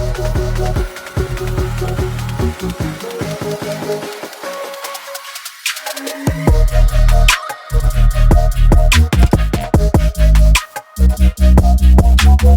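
Loud, dense dubstep track at 147 BPM with heavy bass, gritty wobbling synths and hard drums, dropping into a brief filtered breakdown before slamming back in.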